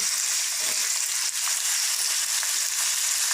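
Onions, chilies and tomatoes sizzle steadily in a hot pan, a bright continuous hiss with faint stirring scrapes, close and even throughout.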